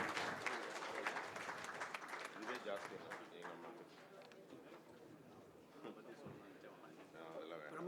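Audience applause at an OBC Morcha meeting welcoming someone speaker to the stage, a sustained wash of clapping from a large hall crowd that fades a little midway, with voices over it.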